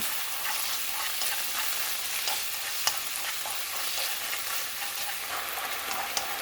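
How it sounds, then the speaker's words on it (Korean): Meat stir-fries in a pot over a gas stove, with a steady close sizzle and occasional scraping stir strokes throughout, no voices. "그럼 가스불을 켜주고 본격적으로 볶아보겠습니다."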